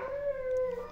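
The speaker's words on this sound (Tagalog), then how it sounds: "So, meron asong maingay dito sa kapitbahay." A neighbourhood dog lets out a single drawn-out howl, steady and tonal, heard from a short distance in a residential area, with no talk over it.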